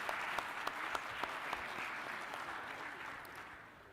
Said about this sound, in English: Please give one more round of applause for our panelists and the moderator.